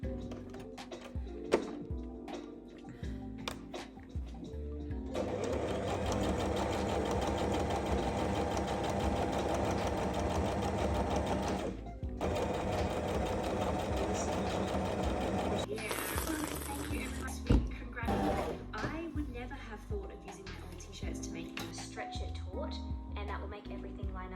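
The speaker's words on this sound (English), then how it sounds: "I started to sew the side seam open and up" Sewing machine stitching the side seam of a handmade dress, a close rapid mechanical whir in two long bursts with a brief pause between them, framed by clicks and handling sounds before and after.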